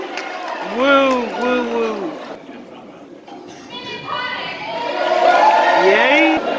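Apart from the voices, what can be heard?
crowd cheering at cardboard boat races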